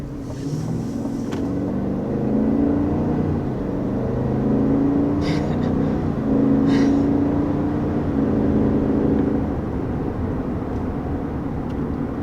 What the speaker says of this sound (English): there are no complaints about this engine at all. It sounds so good.